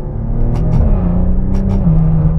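Maserati Ghibli SQ4 in sport mode, its engine note close and loud as a steady, deep rumble that rises slightly in pitch while cruising, with no talking.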